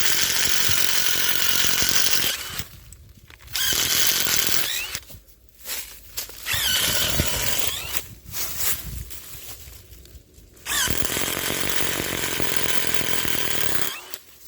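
A power drill or similar motor tool bores several holes around the trunk of an unwanted shrub tree such as acacia or mulberry, loud whining bursts with short pauses between them, alone with no talking.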